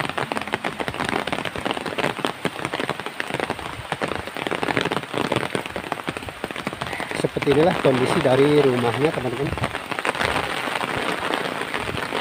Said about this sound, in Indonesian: kalau suara hujan terdengar, karena saya pakai payung ini ya